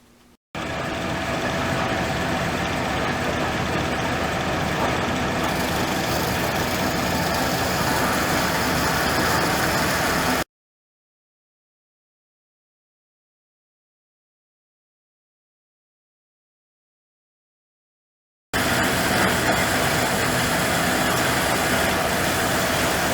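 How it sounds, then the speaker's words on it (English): A bandsaw sectioning off the end of a metal part for a scale holder tooling build in a workshop, a loud, steady, droning machine hum with a long silent gap before it resumes, no talk. "we're going to go ahead and section this end off in the bandsaw"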